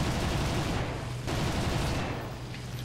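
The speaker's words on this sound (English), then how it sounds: "I got all of this flak firing." Flak bursts and gunfire roar continuously during a War Thunder realistic air battle flown in a Ki-61 fighter, a dense, loud barrage of rapid shots that briefly dips and then resumes, with no voices.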